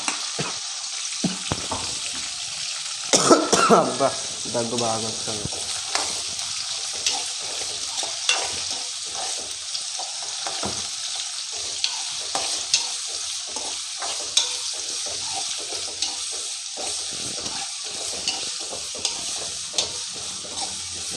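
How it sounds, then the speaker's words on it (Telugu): Sliced onions sizzle in hot oil in a home kitchen pan while a spoon stirs them, with scraping strokes over a constant crackle; a voice speaks briefly near the start. "తర్వాత ఉల్లిగడ్డలు వేసుకుందాం."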